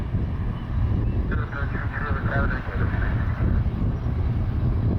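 A jet airliner rolls and lifts off at an airport with its landing gear still down, a loud sustained roar heavy in the low end, heard from a distance and buffeted by wind on the microphone.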